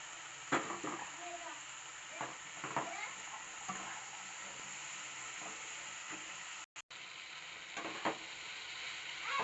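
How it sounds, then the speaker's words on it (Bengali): Cut potatoes fried with tomatoes, turmeric, salt and chili powder: a soft, steady sizzle with occasional stirring scrapes, quiet and close, and a brief dropout partway through. "এবার দিয়ে দেবো কেটে ধুয়ে রাখা আলু।"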